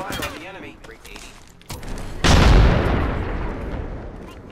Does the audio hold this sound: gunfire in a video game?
yes